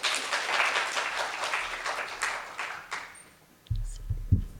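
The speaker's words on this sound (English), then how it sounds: "Let's give her another round of applause." An audience applauds a spoken word performer, with a burst of dense clapping that swells and fades over about three seconds. Low thumps and a voice follow after a short lull.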